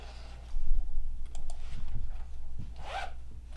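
A zipper on a soft vinyl pouch slides open in a few quick rasping pulls, close and moderately loud, with small clicks and handling rustle around it.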